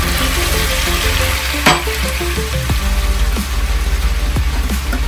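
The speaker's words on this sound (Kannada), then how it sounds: "ಈರುಳ್ಳಿ ಹಾಕ್ತಾ ಇದ್ದೀನಿ." About 2 kg of onions go into hot oil for mutton biryani and fry with a loud, close, steady sizzle, broken by a few clanks and scrapes of stirring, with no talking.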